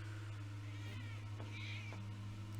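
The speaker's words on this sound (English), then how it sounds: "My kitties are attacking each other." Pet cats meow and yowl at each other during a scuffle, their drawn-out cries rising and falling over a steady low household hum, fairly close but not loud.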